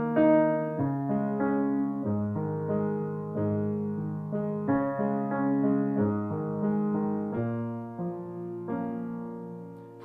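Piano left hand playing octaves in the intro of a song, steady sustained low chords changing every second or so, close and moderately loud with no talking.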